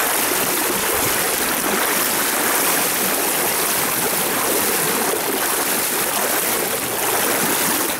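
Floodwater rushes through the flooded Kamnik area in a loud, steady, unbroken roar that holds the same level throughout, with no voices.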